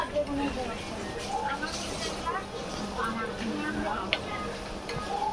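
A fish head with vegetables, turmeric and salt being stirred in a pot, soft scraping and faint clinks over a gentle simmer, with someone speaking over the cooking.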